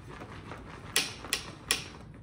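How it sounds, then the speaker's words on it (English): Three sharp, separate rattling clacks at steady intervals from an Ogio Silencer golf bag, close by and fairly faint against a quiet background. "you're hearing a little bit of rattle there"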